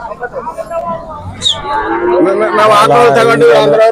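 A bullock moos loudly and repeatedly, a deep drawn-out bellow rising over a busy outdoor crowd murmur at a large cattle market in Sindhanur.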